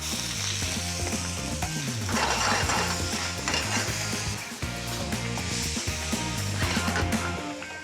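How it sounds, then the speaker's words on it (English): Vegetables, onions and garlic sautéing in canola oil, with a loud, continuous sizzle and occasional stirring scrapes in the pan throughout. "I'm gonna saute these vegetables with a little bit of oil, some canola oil"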